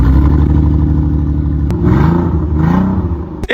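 A car idles and revs with its mufflers removed on a DIY open exhaust, giving a loud, raspy, uneven drone with rising and falling throttle blips and a couple of sharp clicks.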